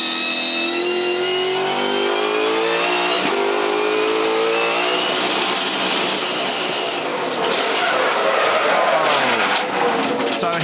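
V8 Supercars race cars at the Phillip Island circuit in 2015, loud engines roaring and revving continuously with rising and falling pitch as cars pass close by, a dense wall of racing engine noise throughout.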